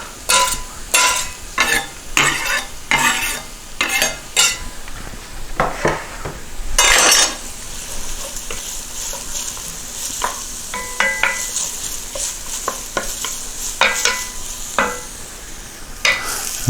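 Garlic cloves sizzle in a pot for Brunswick stew, stirred with a utensil that scrapes and knocks in repeated bursts over a steady frying hiss, close up and without talk.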